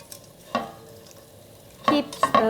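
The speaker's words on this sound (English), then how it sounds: "Keep stirring. Over medium or medium-low heat." Squid threads coated in oil are stirred in a pan with a wooden spoon over medium-low heat: a faint sizzle broken by a single scrape, then a quick cluster of close stirring strokes near the end.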